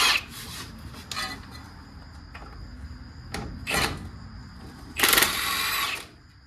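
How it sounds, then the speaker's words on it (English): A socket tool works at a stuck shock absorber bolt on a 1979 Volare wagon, with short bursts of ratcheting and grinding separated by pauses, the last burst louder and longer, close by. "See if I can get this bolt out or if it'll snap."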